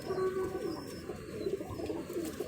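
A Giribaz pigeon coos softly at night, low murmuring calls repeated a few times close by over faint background noise.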